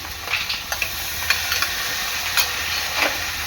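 Ginger-garlic, coriander and mint paste stirred into onions frying in a pan: a constant loud sizzle and hiss with repeated scraping spatula strokes and light clinks against the pan.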